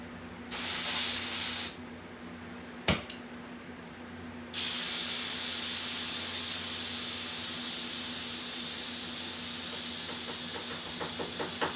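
Air ride suspension on a 1963 Pontiac Grand Prix in a shop, giving a short burst of hissing air, then a sharp click, then a long, steady, loud hiss of air releasing.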